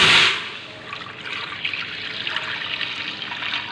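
Water poured or running steadily into a cooking pot for yukhni dal, a continuous close trickling splash with a brief louder gush at the start and no talk.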